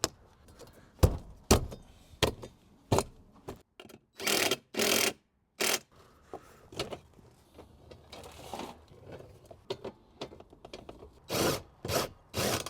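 Bolts driven into siding during a DIY garage mini-split install, close irregular bursts of grinding and ratcheting in short spurts with pauses and clatter between them, no talk.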